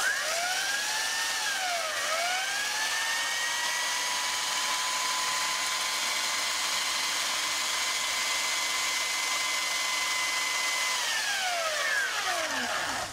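A homemade belt sander, or grinder, spins up with a rising whine, holds a steady loud motor hum with a belt hiss, then winds down as it switches off.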